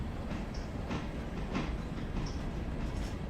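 A passenger train runs in the Railroader simulation game, a steady dense rumble of wheels and rolling stock with faint rhythmic clatter, heard continuously and close with no talking.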